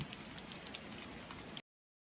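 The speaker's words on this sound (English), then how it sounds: "I'm just kind of under this ledge here because it's raining cats and dogs out here" Heavy rain falling outside a rock ledge at Elora Gorge, a steady dense patter that holds evenly for under two seconds before cutting off.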